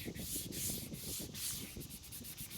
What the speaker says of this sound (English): You're going to put the sandpaper right there on the headlight and destroy the headlight.